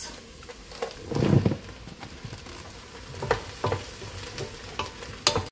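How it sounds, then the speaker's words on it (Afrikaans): Mushrooms fry in a pan with a soft, low sizzle, punctuated by several scraping stirs and taps of a utensil, fairly quiet and close, with no talk. "So dan gaan ons byvoeg 2 pakkies mushrooms of 1 groot pak. Nou gaan ek hierdie net braai tot hulle sag is."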